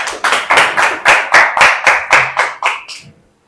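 A live open mic poetry audience breaks into applause, about a dozen sharp claps or bursts in a steady rhythm, loud and close, tapering off abruptly after three seconds.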